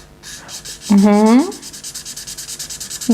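Ohuhu alcohol marker tips, fine and chisel, drag across paper in a steady scratchy rasp of repeated short strokes, close and fairly loud, with a brief voiced hum partway through.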